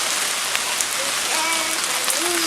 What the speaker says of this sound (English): Oh, it's raining. It's pouring.